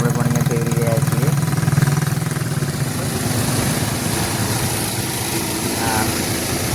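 A large bike-type vehicle is ridden in the sea, its engine running with a steady, loud, rough drone. People talk over it, and wind and water noise can be heard.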